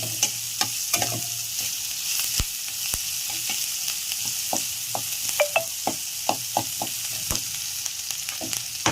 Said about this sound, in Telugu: మీడియం ఫ్లేమ్లో వేయించుకుంటే కనుక ఉల్లిపాయలు మాడిపోకుండా కొంచెం క్రిస్పీగా